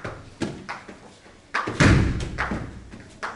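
A ball is tossed up and caught during a gym exercise class, giving a few dull thuds at irregular intervals over a quiet room background, with no voices in between.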